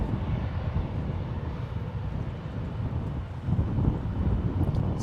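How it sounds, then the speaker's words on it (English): An Emirates Airbus A380 taxis at San Francisco International Airport, giving a steady low engine rumble with wind buffeting the microphone throughout. "So we have Emirates taxiing out"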